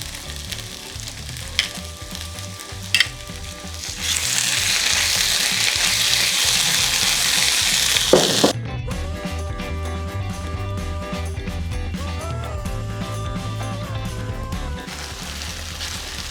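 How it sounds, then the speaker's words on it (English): Vegetables and tomato puree fry in a pan, giving steady close crackling and sizzling that flares louder for a few seconds, then settles into quieter bubbling, with occasional clinks of stirring and soft background music. "Just some frying"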